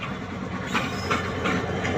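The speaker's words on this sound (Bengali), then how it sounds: "এই ট্রেনটি উত্তরবঙ্গ হতে ছেড়ে আসা একটি ট্রেন যেটি জয়দেবপুর স্টেশন হয়ে ঢাকায় প্রবেশ করবে" A passenger train from North Bengal rolls past on the line toward Dhaka via Joydebpur, giving a steady, close rumble with rhythmic clickety-clack of wheels over rail joints, alone without talk.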